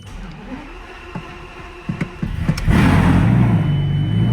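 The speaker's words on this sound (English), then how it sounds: "now we're gonna start the Lambo" A Lamborghini Gallardo on a cold start, a few clicks and the cranking starter, then the engine catches and surges into a loud, sustained deep roar that holds at a high idle.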